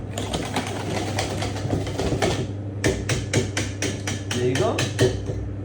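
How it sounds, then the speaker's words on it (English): Egg yolks and sugar whisked hard by hand in a bowl for crème anglaise, giving fast, steady clicking strokes close up, with a short pause midway and a brief spoken remark. "Mix the yolks and the sugar very well together."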